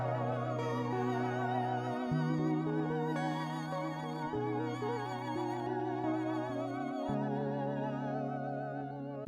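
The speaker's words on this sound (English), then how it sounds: "because if I get out my guitar, this pitch modulation and pitch bifurcation" Guitar run through a Sonicware Texture Lab granular processor with pitch modulation, giving sustained wavering, shimmering tones that step between pitches in an otherworldly, warbling drone, steady and moderately quiet without speech.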